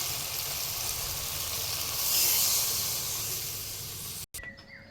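Water poured into a pan of fried potatoes and spices sets off a long, steady hiss and sizzle that swells briefly, then cuts off abruptly near the end.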